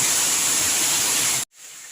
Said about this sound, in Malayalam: മനോഹരമായ വെള്ളച്ചാട്ടം